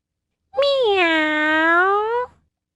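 A single drawn-out meow, voiced by a human imitating a cat, rises sharply, holds a clear tone for nearly two seconds and then cuts off, close and loud against silence.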